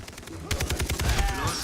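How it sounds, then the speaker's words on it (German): Rapid bursts of gunfire from the video game Far Cry 3 crackle in quick succession, loud and close, with a faint voice underneath. "ich höre immer noch Schüsse"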